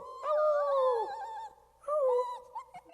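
A sleepy dog howls in two long, wavering bursts with a short gap between them, fairly close and clear, with no talking over it.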